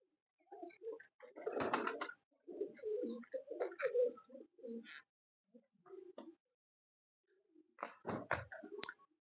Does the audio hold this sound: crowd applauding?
no